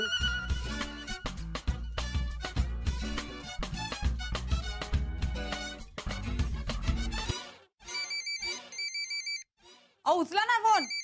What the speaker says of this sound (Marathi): उचला ना फोन.